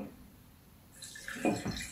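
Distilled water poured into a small jar whose bottom is lined with pine cones, a short splashing, gurgling pour that starts softly and swells to a close, bright trickle after a quiet pause.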